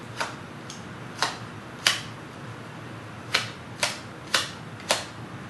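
Playing cards riffled through an overhand shuffle give a series of crisp, close slaps and clicks, about seven in irregular spacing, with no talking.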